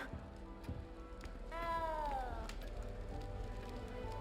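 A single cat meows in Hogwarts Legacy, a short clear drawn-out meow rising then falling, heard near over a low steady background with faint game ambience.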